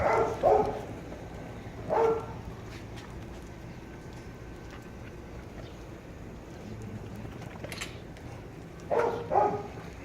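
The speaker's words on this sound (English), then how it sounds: "This guy's always barking as I come near him" A dog barks in short bursts, a couple of barks at the start, one more a moment later, then a pair near the end, over quiet background noise.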